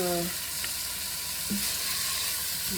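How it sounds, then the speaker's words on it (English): Ziti pasta seasoned with Old Bay is stirred in a pot, a faint steady sizzle with a few soft scraping strokes, close and without talk. "stir it up"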